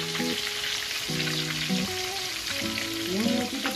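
Torrijas frying in hot oil give off a steady, close crackling sizzle, with some scraping and stirring from the pan running throughout.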